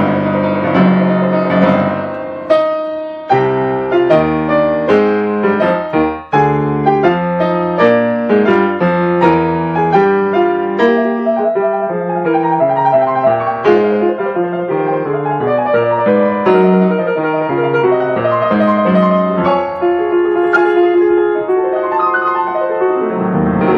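Solo piano plays the written-out cadenza from the end of a Beethoven first movement, loud and close, with rapid running passages, arpeggios and dense chords flowing continuously, no voices.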